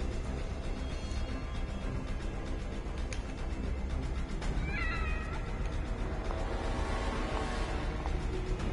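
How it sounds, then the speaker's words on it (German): A cat meows once in the horror video game The Evil Within. The short, clear meow comes midway through, over a constant droning ambient background. "Hallo Katze."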